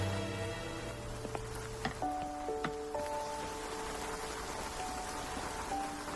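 Steady heavy rain patters in a constant wash, low and even, while a few faint tonal notes drift above it.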